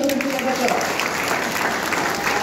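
Audience applause at a politician's press conference in Amravati, a dense continuous burst of clapping from a crowd, close and fairly loud, with voices mixed in beneath it.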